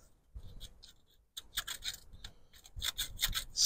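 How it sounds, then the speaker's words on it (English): Ignition points on an old 1964 Farmall Cub tractor engine being sanded by hand, soft close scratchy rasping strokes in short irregular bursts with pauses between, quiet and without talk. "sand on that for a second."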